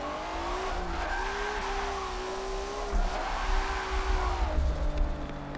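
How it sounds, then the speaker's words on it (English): A turbocharged Boss-kit Nissan S14 with 500 horsepower and 265 tires in Forza gives off a steady engine drone with wavering tire squeal and chatter. Loud and continuous, it shifts pitch as the car slides through a corner. "Wheels started chattering out all on me."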